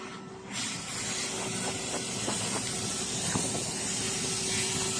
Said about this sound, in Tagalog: inihaw na mais yung tirada natin ngayon mga bay